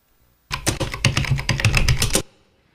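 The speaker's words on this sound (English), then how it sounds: "we had typing on a keyboard, and I've got an example here" Typing on a computer keyboard, a quick run of close, crisp key clicks in an irregular rhythm lasting under two seconds, heard alone with no talk.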